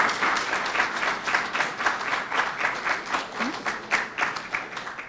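Audience applause for student participants at a public speaking competition, a moderately loud, steady wash of clapping that pulses slightly in rhythm.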